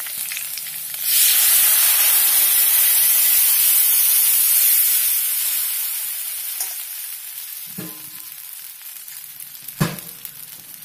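Batter poured into a hot pan for mor koozh, a Tamil buttermilk and rice-flour porridge, bursts into a loud steady sizzle that slowly fades, with a couple of clinks near the end.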